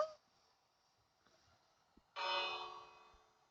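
A single Minecraft bell strikes once and rings out, fading over a second or so after a quiet stretch with faint ticks.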